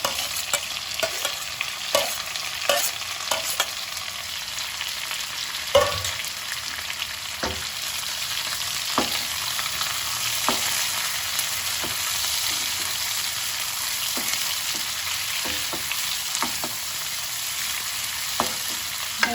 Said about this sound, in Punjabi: ਮਿਰਚ ਪਿਆਜ਼ਾਂ ਨੂੰ ਇਦਾਂ ਲੰਬਾ ਲੰਬਾ ਕੱਟ ਕੇ ਤੇ ਇਹਨਾਂ ਨੂੰ ਭੁੰਨ ਲਵਾਂਗੇ